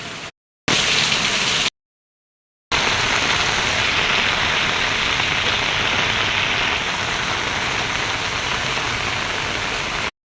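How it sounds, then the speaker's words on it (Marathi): Heavy rain pours down in a dense, steady hiss, broken by a couple of brief cuts, otherwise continuous and loud. "खूप सारा पाऊस चालू आहे"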